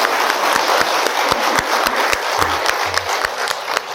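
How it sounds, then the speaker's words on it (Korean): An audience at a book concert breaks into steady applause, a dense wash of clapping that carries on loudly for the whole stretch, with a few brief low thumps beneath it. "박수 부탁드립니다."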